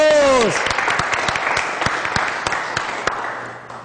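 A brief voice gives way to applause from an audience, with distinct individual claps standing out from the crowd sound as it gradually thins and fades toward the end.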